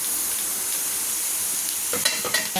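Brinjal pieces fry in an open pan with a steady, close sizzle, and a few scraping stirs cut in near the end.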